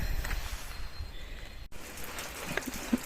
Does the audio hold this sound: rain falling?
yes